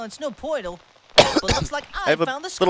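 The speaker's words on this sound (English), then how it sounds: "I have a little cough. I apologize." A brief, harsh cough bursts out in the middle of a man's speech, loud and close, with talking before and after it.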